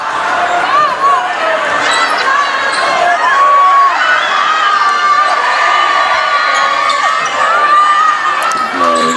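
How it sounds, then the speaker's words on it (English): Portland High student section roars at a varsity boys' basketball game against Deering, a loud, unbroken wall of crowd cheering and shouting with ball bounces and sneaker noise mixed in. "Portland student section cheering."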